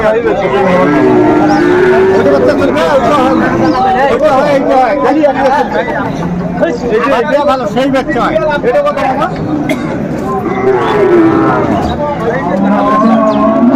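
Cattle, including large bulls, lowing and mooing amid a busy crowd at Ambari cattle market in Dinajpur, with constant chatter and voices of people bargaining over the animals.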